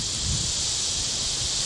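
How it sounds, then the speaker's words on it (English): A brief gust front sweeps through a tomato garden, leaves rustling with a soft steady hiss, fairly close and without voices. "That little breeze right there, that's a gust front."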